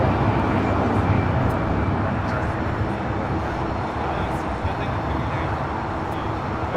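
A Boeing 787-10 Dreamliner airliner at LAX gives off a steady, broad engine roar that holds at an even loudness throughout, with no voices over it.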